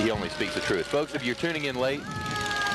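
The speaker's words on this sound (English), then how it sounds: "As you can hear the fire siren behind me" A wailing fire truck siren at a holiday parade rises and falls behind someone speaking, then continues more steadily once the talking stops.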